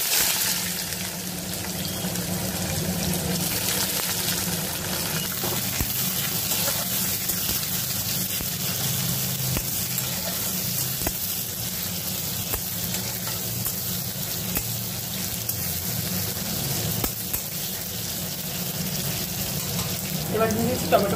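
Chopped onion, curry leaves and dried chillies fry in hot oil for sambar dal, giving a loud, steady sizzle that runs the whole time with faint stirring scrapes.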